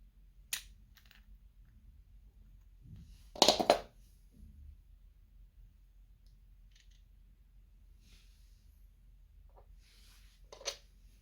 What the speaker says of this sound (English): you'll need to find a pair of pliers to lever off the thumb trigger